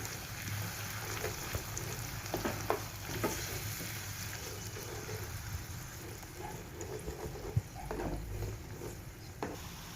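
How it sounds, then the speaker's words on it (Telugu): Ground masala paste frying in oil on a medium flame produces a steady soft sizzle and bubbling, with occasional light clicks of a stirring spoon, quiet and close. "మనం ముందుగా గ్రైండ్ చేసుకున్న మసాలా పేస్ట్ని వేసుకోవాలి దీనిని పచ్చివాసన పోయేంత వరకు మీడియం ఫ్లేమ్లో చక్కగా వేయించుకోవాలి"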